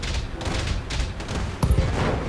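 Turrets firing in the video game Battletech, dull booms and a rumbling volley of impacts over a busy game soundscape, loud with a heavy low thump midway.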